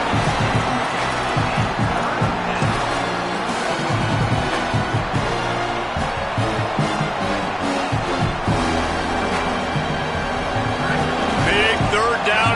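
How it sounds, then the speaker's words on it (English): A stadium crowd roars steadily through a college football video game, a dense, loud wall of cheering that never lets up, with the game's broadcast commentary running over it. "The crowd gets behind this defense."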